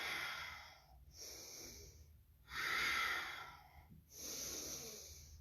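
Deep, slow breathing held in a yoga stretch: three long breathy exhales and inhales in steady rhythm, close to the microphone, with brief quiet pauses between and no talk.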